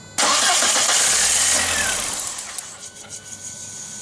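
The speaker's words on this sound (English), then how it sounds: "Try and start it again." A 1999 VW Passat with a 1.8L turbo engine cranks and catches, starting loud and close, then settling as the revs drop over a few seconds, with no talk.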